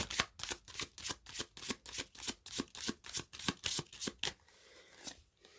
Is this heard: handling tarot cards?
yes